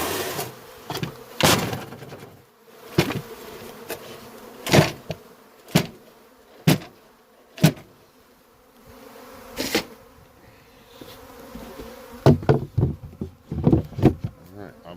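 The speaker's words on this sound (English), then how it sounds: "put the top on after I knock all the bees down." Honey bees inside a chimney buzz as they are knocked down during a rescue, a close, continuous insect drone broken by repeated loud knocks and thumps, with scattered bursts of clattering near the end.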